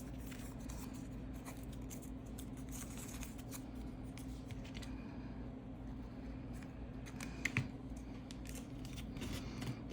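Scissors snip through paper cards while building a collage, a steady run of close, quiet cuts with a constant low hum in the background and a brief louder snip near the end.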